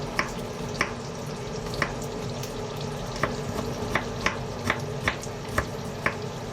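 Garlic sizzles steadily in a hot pan, a constant frying hiss broken by regular light taps and stirs of a utensil at an even pace, close and fairly loud, with no talking.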